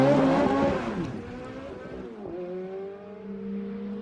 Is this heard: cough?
no